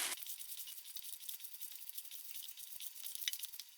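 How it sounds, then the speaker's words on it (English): Hands squelch and squish through a raw meatloaf mixture in a bowl, a continuous wet, crackly mashing texture, close and fairly quiet with small pops and slaps. "I'm going to get in there with my hands and mix it all together."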